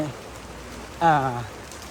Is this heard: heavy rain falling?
yes